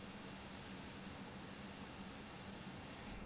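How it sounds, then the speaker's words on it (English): Diluted detail paint mixture is sprayed over white areas of a painting, producing a steady, even airy hiss that runs without a break. "I'm actually spraying over the white with a diluted detail mixture"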